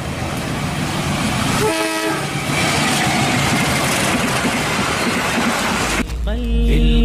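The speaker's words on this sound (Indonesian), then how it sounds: "Kereta api Indonesia." An Indonesian railway train roars past close by with loud broadband wheel and engine noise, and its horn sounds in tonal blasts, first briefly and then again at the end.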